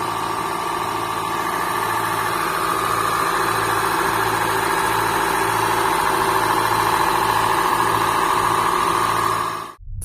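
A 2023 Honda Vezel hybrid's engine runs steadily at a constant idle-like hum with a faint pulsing vibration, alone and unchanging until it cuts off abruptly at the end.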